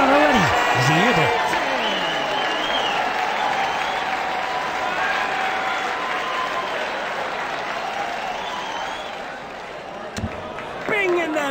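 Darts video game crowd applauds and cheers loudly, a dense sustained roar with whistles and calls, fading slightly toward the end.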